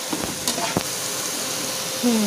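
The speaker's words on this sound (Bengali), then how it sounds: "এইভাবে আমরা আরও একটু মশলাটা কষবো" Spices fry in hot oil for masoor dal pakora, giving a steady hiss and sizzle with a few stirring scrapes and clinks, fairly close, with a brief tonal sound near the end.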